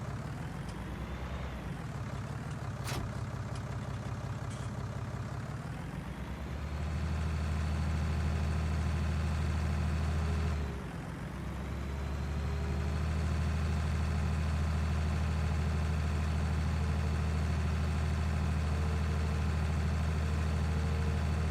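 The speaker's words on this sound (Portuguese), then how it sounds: "Sinceramente não noto uma diferença muito grande no motor" A truck engine idling in Farming Simulator 19, a steady low drone that dips briefly and rises again to a louder, stronger hum, continuous with no talk.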